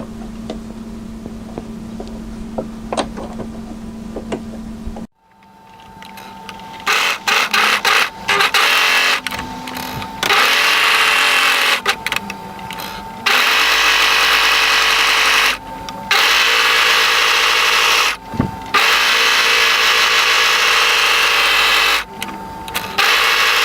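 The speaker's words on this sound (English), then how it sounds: "we're going to overlock down, across, and here, and then all the way across the bottom" An overlocker stitches the seams of a hooded button-up jacket in loud, steady runs broken by short pauses, starting after a quiet hum in the first five seconds.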